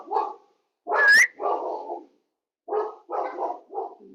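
Big dog Manuka barking at passing cars on a rural property: a loud yelp-like bark, then a run of gruff barks in short bursts, a pause, and three more close barks.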